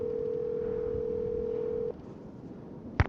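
A steady telephone dial tone hums in a Nancy Drew adventure game, holding for nearly two seconds before cutting off, followed by a brief sharp click near the end against quiet background noise.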